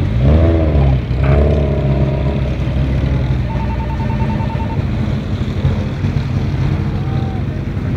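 Off-road autocross race cars driving and braking at an endurance race in Masquefa, Catalonia: a loud, continuous engine roar with rising revs near the start, sustained throughout, with voices talking over it.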